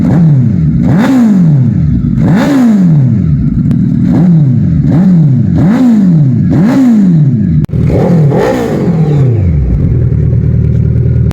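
A Suzuki Hayabusa sport motorcycle engine revs repeatedly in rising and falling surges, loud and close, then settles into a steady rumbling idle.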